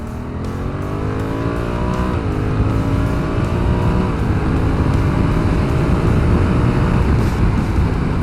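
A Honda Africa Twin CRF1100L DCT motorcycle pulls hard under open throttle in second gear, a loud, steady engine drone rising in pitch with automatic gear changes, recorded up close with wind noise.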